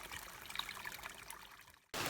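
Spring water trickles at Leura in the Blue Mountains, a faint, steady dribble that cuts off abruptly near the end.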